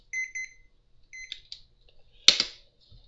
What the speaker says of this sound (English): There's my beeper telling me to get out.